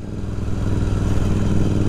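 Royal Enfield Continental GT 650 motorcycle engine running nearby, a loud, steady low rumbling throb with a rhythmic beat and no voices.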